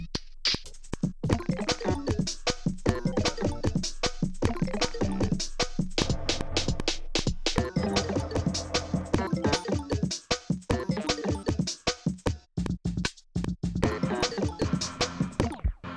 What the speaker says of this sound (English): it's one of the most ridiculous effects on the OP-1 field, but I love it because it creates such random noises